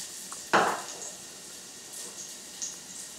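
Chopped shallot dropped into hot extra virgin olive oil in a pan on the stove, giving a sudden loud burst of sizzling that quickly settles into a faint, steady crackle with occasional soft clinks.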